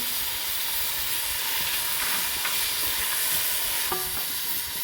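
Tomatoes and spices frying in a pan for mutton biryani, a loud continuous hissing sizzle with steam, plus a few faint stirring scrapes near the end.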